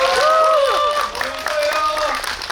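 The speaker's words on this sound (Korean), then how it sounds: "다시 한번 박수 부탁드리겠습니다." Audience clapping at a Korean film guest-visit screening event, mixed with excited voices and squeals over the applause, fairly loud and close, with bursts of crowd noise across the short stretch.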